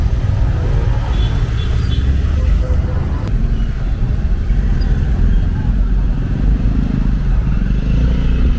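Motorcycles and cars rumble past on a busy road in the Philippines, a steady close traffic drone with engine clatter throughout, with voices faintly audible under the noise.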